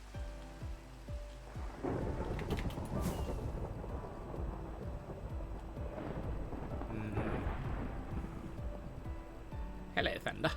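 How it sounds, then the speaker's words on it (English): A Minecraft thunderstorm with rumbling thunder over steady rain, swelling loud partway through and again near the end, with a voice talking alongside. "Thunder, thunder, thunderstorm."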